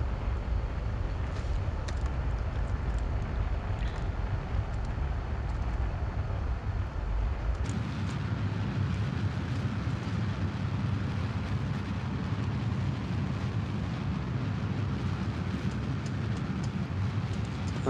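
A rocket engine in Kerbal Space Program roars as a deep, steady rumble that suddenly shifts partway through into a thinner, hissing thrust, sustained and fairly distant.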